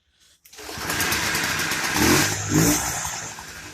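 A moped engine, fuel having been shut off, catches after a brief pause and settles into a loud, close, buzzing run with a couple of revving swells, no talking over it.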